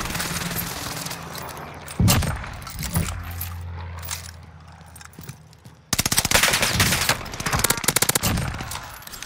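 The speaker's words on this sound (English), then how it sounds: "This gun's shredding, man." Rapid automatic bursts from a UGM 8 rifle in the shooter game Warzone crackle loudly and close, in repeated volleys separated by brief pauses and quieter game sounds.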